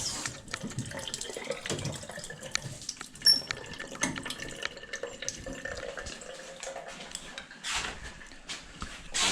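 Water runs steadily from a tap into a sink, splashing and gurgling close by, with occasional clatters and faint drips.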